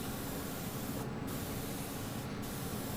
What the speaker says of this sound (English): this is the final coat of paint going on now